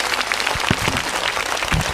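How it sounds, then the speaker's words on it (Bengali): Applause from a crowd, a steady wash of clapping with a few sharper individual claps, fairly close and continuous for about two seconds with no speech. "সবাই হাততালি দাও"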